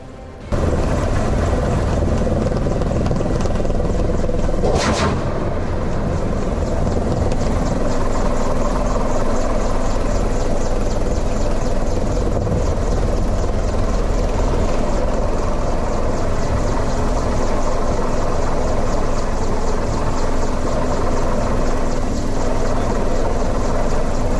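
Military helicopters of the Ukrainian Army Aviation operating in a combat zone near Bakhmut, a loud, steady rotor and turbine roar filling the whole stretch, with a brief sharp burst early on.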